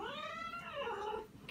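An angry cat growls in a long, drawn-out, wavering yowl up close, loud and alone without talk.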